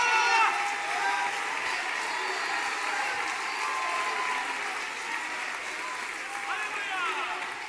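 A church congregation claps during a worship service, a sustained crowd applause under a singing or preaching voice that carries over the clapping throughout.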